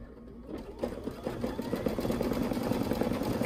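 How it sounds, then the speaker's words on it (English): A Luminaire sewing machine runs steadily after a brief pause, its needle stitching in a fast, even mechanical patter that stays close and fairly loud with no talking over it. "so let me start sewing"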